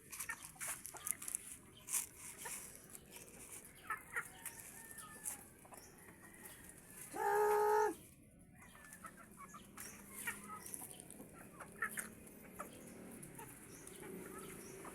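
A laying hen clucks in a short, clear burst amid faint outdoor ambience and scattered soft noises.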